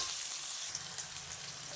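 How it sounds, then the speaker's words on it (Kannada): Onions frying in a pan with salt and turmeric added, a steady close sizzle with soft crackles running throughout, no talking. "ಈರುಳ್ಳಿ ಫ್ರೈ ಆಗಿದೆ."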